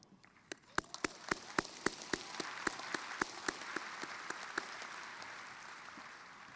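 Graduation ceremony audience applauding graduates, with steady crowd clapping that swells and holds while a few louder individual claps ring out near the front.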